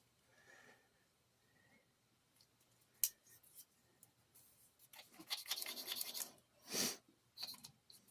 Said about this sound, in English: Scrubbing some of the gunk off the tang